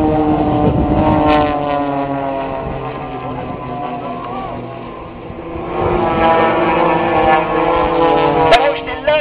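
Propeller engines of the Blades aerobatic team droning loudly and continuously during an airshow display, the pitch shifting as the aircraft pass and maneuver overhead.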